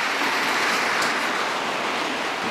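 Steady rain falls outdoors, a dense, even hiss of drops heard close and fairly loud, with no voices.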